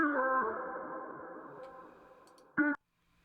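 A tonal sample fades into a long, decaying reverb tail, then a short bright burst cuts in and stops dead, leaving near silence.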